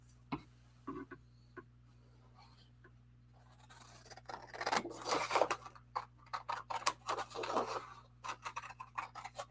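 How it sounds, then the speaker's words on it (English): Long scissors cut out a paper template for a flower-themed craft album, producing a quiet run of crisp snipping and rustling clicks, starting sparse and then growing dense. "going to cut it out with my long scissors"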